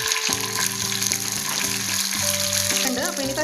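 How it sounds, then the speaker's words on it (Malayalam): Raisins frying in hot ghee for lentil payasam give a steady, close sizzle throughout, with a low tonal hum underneath. "നെയ്യിലേക്ക് നമുക്ക് കിസ്മിസ് ഇടാം."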